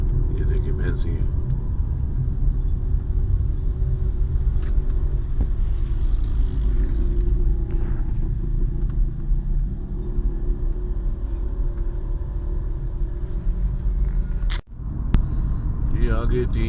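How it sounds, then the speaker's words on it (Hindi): Shehzore trucks loaded with buffalo and young calves pass along a road near a cattle market at Shahpur Kanjran during the COVID-19 lockdown, a dense, continuous engine rumble under someone talking. "ये आगे 3-4 और शाहजोरें जा रही हैं, जिसमें कुछ भैंसे हैं, कुछ बच्चे हैं, छोटे बछड़े हैं।"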